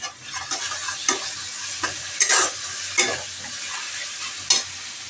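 Spices, salt, turmeric and chopped tomato being stirred in a hot pan for a Bengali mustard and poppy seed fish curry, with a steady close sizzle and repeated scraping strokes.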